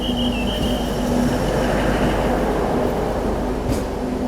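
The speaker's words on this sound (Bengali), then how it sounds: "এই ঢুকছে তোমার ট্রেন।" A train pulls into the crowded Srinagar station platform in Kashmir; a loud continuous rail rumble fills the scene with squealing wheel tones on top and no talk.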